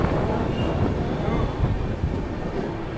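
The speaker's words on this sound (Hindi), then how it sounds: "अब ये है बोरीवली रेलवे स्टेशन का डिपार्चर।" The Golden Temple Express pulls out of Borivali railway station in Mumbai, a steady low rumble of rolling carriages and wheels on track heard from on board, continuous and fairly loud.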